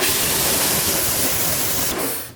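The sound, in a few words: spraying detailing spray on car wheel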